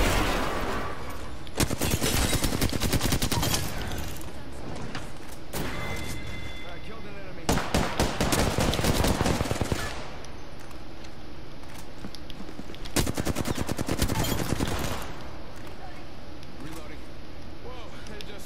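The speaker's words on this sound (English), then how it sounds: "Are you getting shot at?" Gunfire in the battle-royale shooter Apex Legends comes in several dense bursts of rapid shots that alternate with quieter gaps, loud and close over constant background noise.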